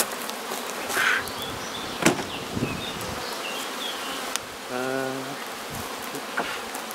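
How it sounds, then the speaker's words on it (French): Honeybees buzzing around an opened hive during a honey harvest, a steady, fairly faint hum of many insects with scattered louder fly-bys, brief knocks, and a short tonal squeak in the middle. "Toujours histoire de calmer un petit peu les abeilles"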